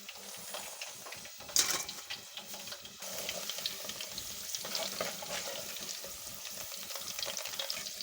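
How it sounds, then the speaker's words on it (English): Potato chips frying in hot oil in a home kitchen, a steady sizzle and crackle throughout with a brief louder burst near the start, as if stirred, heard alone with no talk. "you can see that the chips is well fried, not too dried"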